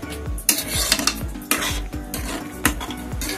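Mumbai-style pav bhaji mixed with chopped coriander in a pan, a spatula scraping and clanking rhythmically against the metal over a light sizzle, close and loud.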